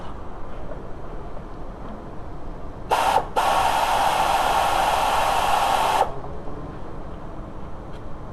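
A noisy alternator belt tensioner roller on a VW ALH TDI engine spins with a steady hiss and whir for about three seconds after a brief start, alone in a quiet garage.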